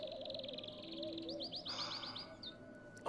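A bird calls in the fantasy action game Lord of the Rings: War in the North, giving a run of rapid, bright chirps and warbling trills, clear and close over a soft ambient hum.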